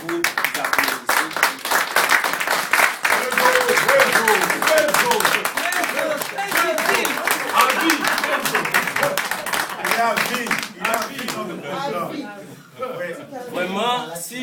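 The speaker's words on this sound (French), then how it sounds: "je voudrais que, s'il vous plaît, que vous applaudissez" A crowd claps and applauds for several seconds, with voices and murmuring mixed in before the clapping tapers off near the end.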